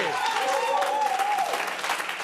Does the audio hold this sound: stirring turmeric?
no